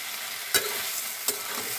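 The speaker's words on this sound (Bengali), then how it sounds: "আমি এখন একটু নেড়ে নেব।" Malabar spinach curry with lentil dumplings gets stirred in a frying pan over a soft, steady sizzle, with two brisk scraping strokes of the spoon standing out.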